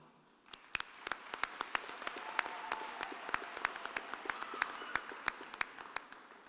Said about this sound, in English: give you another massive round of applause